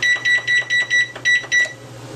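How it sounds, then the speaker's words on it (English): A kitchen timer beeping in a row of six short, evenly spaced electronic tones while being set to cook eggs, close and clear over a faint steady background hum. "I'm going to set my timer for 7 minutes."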